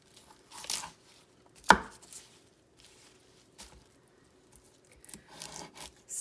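A knife trims stems from kale leaves, giving a few soft, scattered cuts and rustles with one sharper chop against a quiet background.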